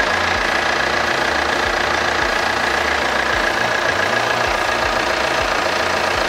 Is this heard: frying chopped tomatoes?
no